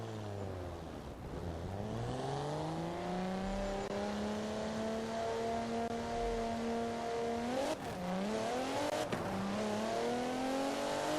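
A car engine in the racing game Forza Horizon 4, set up for stock drifting, revving and accelerating with rising and falling pitch, a couple of sharp shifts near the end, loud and continuous with no talk.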